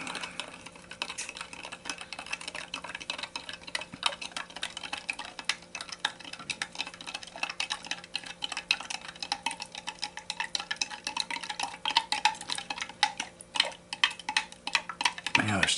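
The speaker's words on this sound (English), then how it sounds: "we will give this a stir real quick" A spoon stirring hot water into instant coffee in a cup, producing a steady stream of quick faint clinks and scrapes throughout, close but quiet over a low background hum.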